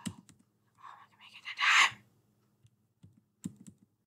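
A computer keyboard struck hard in short bursts: a few sharp, isolated hits, then a busy cluster of rapid clacks and another scattered group of hits. The sound is close, fairly quiet and plays alone, with no talking.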